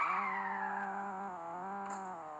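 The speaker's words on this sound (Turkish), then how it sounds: "Araba küçük bir şeydi, hemen drift atıyor ya." A small car drifts in a video game crash simulator, its engine holding a steady droning whine while the tires skid. The pitch sags slightly as the slide goes on, loud and alone.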